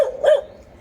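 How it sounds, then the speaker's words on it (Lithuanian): A dog at a hotel in Vietnam gives one short, sharp bark, fairly close and alone. "nežinau kaip čia tas šuo atsidūrė."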